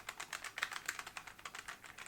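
Rapid, quiet typing on a low-profile mechanical keyboard, with a steady run of soft, light clicks and clacks, close up and alone with no voice.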